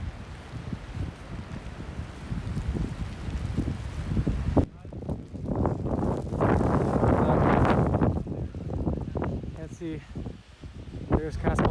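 Strong wind in a snowstorm at horse camp on Mt. Shasta, roaring and gusting hard against the microphone with rumbling buffeting that swells and fades throughout, close and loud.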